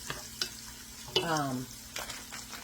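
Onions for chicken cacciatore fry in a pan with a low, steady sizzle. A utensil stirs them with a few sharp clicks and scrapes near the start, the middle and toward the end.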